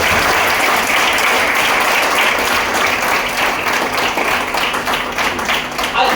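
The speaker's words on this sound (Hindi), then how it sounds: "जोरदार ताली टीम स्पार्टन के लिए।" About eighty people in a hall clap for Team Spartan, producing dense, loud applause that holds steady and then tapers slightly toward the end.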